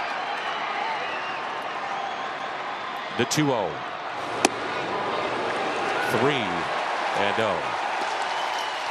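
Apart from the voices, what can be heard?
baseball stadium crowd cheering at Busch Stadium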